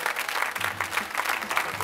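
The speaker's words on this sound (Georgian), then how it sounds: "აპლოდისმენტები." A studio audience at a television comedy contest applauds, a steady wash of many hands clapping that holds at an even level throughout.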